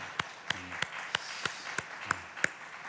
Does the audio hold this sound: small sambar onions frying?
no